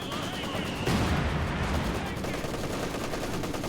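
Machine gun chatter and a barrage of artillery in a Company of Heroes 2 battle: a dense, continuous roll of gunfire with a heavier blast near the start, under a steady din of combat.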